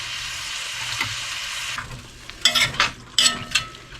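Liquid added to a pot of beef shank burgundy stew: steady sizzling fades as the liquid goes in, then a few sharp stirring and splashing bursts follow close by.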